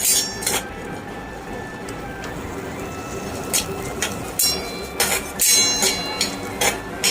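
Spice paste being stirred and sautéed in a pan for a spicy Maharashtrian matki rassa, with metal clinks of a spoon against the pan over a steady frying hiss, close and fairly loud, clinks coming irregularly throughout.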